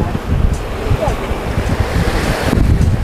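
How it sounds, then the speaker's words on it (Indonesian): Ocean waves wash onto a beach at a peaceful bay near Walpole in Western Australia, a steady loud roar of surf mixed with gusting wind buffeting the microphone. "Peaceful beach. Peaceful bay."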